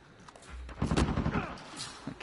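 Rapid bursts of P90 blind fire in a video game crackle loudly for about a second, packed close together, then trail off into scattered fainter pops.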